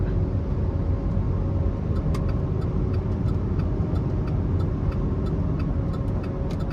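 Cabin sound of a 2012 Buick Enclave with a 3.6 engine and 161,000 miles driving on the road, a steady low rumble of road and engine noise with faint intermittent ticking clicks above it, no voices.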